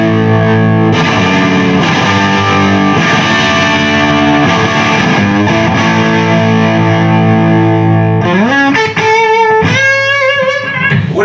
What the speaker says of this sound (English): right now you're like a JTM 45 boosted with a kind of mid-humpy kind of thing going on